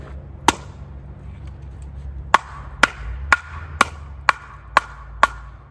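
Pieces of dry oak firewood, seasoned to about 14% moisture, knocked together: one sharp wooden clack, then a steady run of seven bright, resonant knocks about half a second apart over low outdoor rumble.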